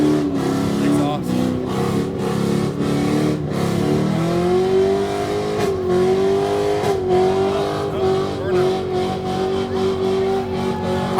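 Car exhaust revving at a night car meet in Columbia, a loud, sustained engine drone that climbs and holds in pitch, with voices talking underneath.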